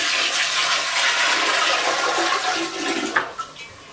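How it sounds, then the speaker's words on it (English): Soapy water drains from a portable washing machine in a steady, loud rushing gush that continues throughout, with a brief gurgle near the end. "So now we just gotta switch it to drain."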